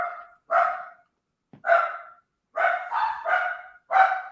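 Several loud dog barks in irregular bursts, close by, with short silent gaps between them and a quicker run of barks near the end.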